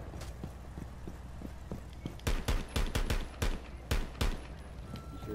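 Video game gunfire crackles in a ranked-style shooter match. A few faint early pops give way to a burst of loud, sharp shots fired in quick, irregular succession.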